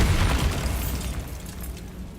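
Bombarda blasting spell cast in a Harry Potter video game, a loud close explosion with a deep rumbling boom that decays over about two seconds, with no voices.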